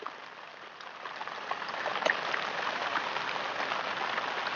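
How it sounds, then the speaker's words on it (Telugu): Heavy rain pours down steadily during a storm, a dense, continuous hiss of drops on surfaces that thickens and grows louder over a few seconds, with no voices present. "చూస్తుండగానే వర్షం పెరిగిపోతుందండి"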